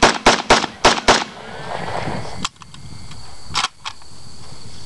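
An AK-74 rifle fired one-handed: a quick string of about six sharp, loud shots, then a lull and two more spaced cracks.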